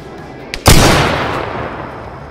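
A single loud, close gunshot from the Arma 3 military shooter game, with a small click just before it and a long rumbling echo that fades slowly.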